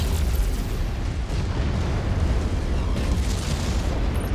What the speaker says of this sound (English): Oh, it's the cannon.